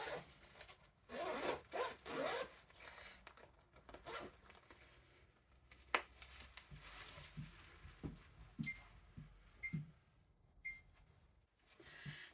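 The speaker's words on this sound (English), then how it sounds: "I'll do it up. So it's got the zip and the little press studs" A coat's zip is pulled up in several quick rasping runs, close and fairly loud, followed by softer rustling and a few small clicks as the press studs are handled.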